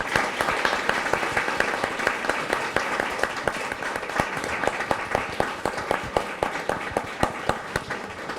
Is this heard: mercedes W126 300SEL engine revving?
no